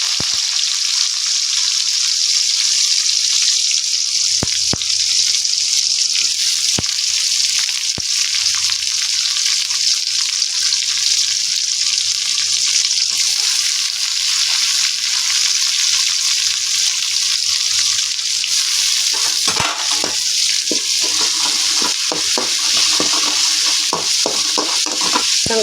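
Curry leaves, green chillies and onions fry in hot oil for a Chettinad-style mushroom gravy, giving a loud, steady, close sizzle throughout, with occasional stirring scrapes.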